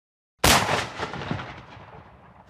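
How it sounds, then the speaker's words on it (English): A ceremonial cannon fired at dawn at Culver Academies, a historic military school: one sudden, loud, close boom that cracks sharply and then rolls away in a long fading echo. "started out the day firing off a cannon with Sheldon Day to wake up the whole team."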